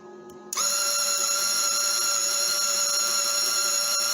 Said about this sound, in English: right now I'm just feeding the wire to the end of the nozzle here